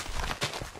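Horse hooves clip-clop in Minecraft, a few soft irregular thuds close by over a steady background hiss.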